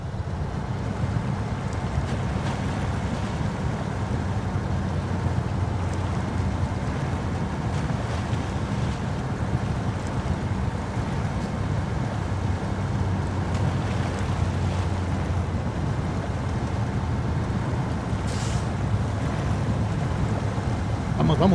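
A heavy truck fords a flooded river in SnowRunner, giving a steady, dense rumble of engine and rushing water that holds at an even level throughout, with no break or pause.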